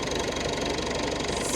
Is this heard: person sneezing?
no